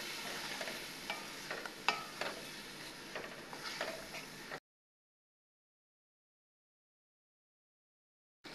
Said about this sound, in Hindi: दही शामिल करने के बाद इसको भून लेंगे हम अच्छे से बीफ को, ऑयल ऊपर आ जाए।